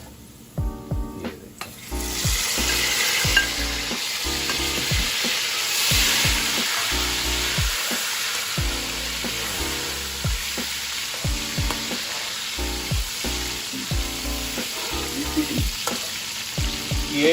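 Tomatoes go into lightly browned onions frying in about a cup of oil for goat paya trotters, giving a loud continuous sizzle with repeated stirring scrapes, while a voice speaks briefly at the start.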